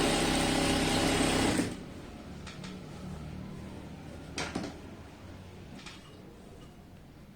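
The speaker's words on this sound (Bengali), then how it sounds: "এক সাইড বরাবর সেলাই করে চলে যাব।" A sewing machine runs in one loud, steady burst for under two seconds while stitching churidar fabric along one side of the waist, then stops, leaving faint handling clicks and rustles.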